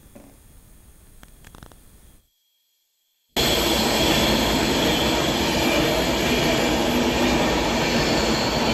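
A train at a railway station: a quiet rumble and faint squeals briefly drop to silence, then a loud, steady, broadband roar of rolling train noise fills the rest, close and continuous.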